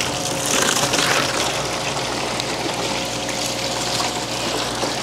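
Water pours steadily into a plastic bag holding a newly shipped live fish, a close, continuous splashing gush that runs for several seconds without talk.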